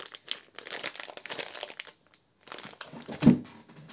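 Crinkly plastic outer packaging of a children's product from an Action store haul is handled and pulled open in close, continuous rustling bursts, with a brief pause and a louder crunch near the end.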